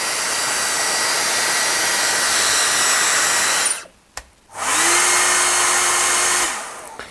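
A hair dryer blasts at maximum setting, cuts off briefly with a click, then roars again before winding down at the end.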